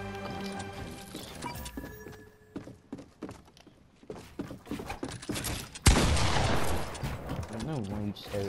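Gunfire in a video game: a dense run of sharp shots and bursts, fairly loud, with a heavier blast-like burst near the end, mixed with scattered game sounds.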